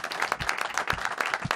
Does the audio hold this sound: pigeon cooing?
no